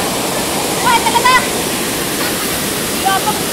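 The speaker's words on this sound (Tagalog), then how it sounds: "Malaking falls." A large waterfall at Sta. Maria, Laguna pours with a loud, steady broadband rush close by, while a few brief voices call out over the roar.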